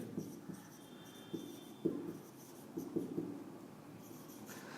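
Chalk or pen taps and scratches faintly on a board in scattered short strokes during an economics lesson, with soft room noise and no talking.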